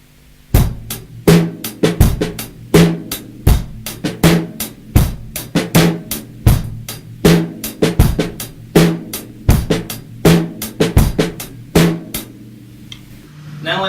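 Snare drum playing steady straight 16th-note grooves with no swing, sharp evenly spaced strokes with accented backbeats repeating in a tight, loud pattern throughout.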